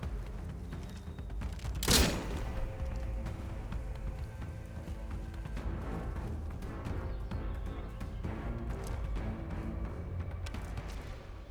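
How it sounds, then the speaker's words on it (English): Shots from the video game Atomfall, one loud sharp blast early on followed by a steady low rumble of game ambience and scattered faint impacts. "I'm shooting!"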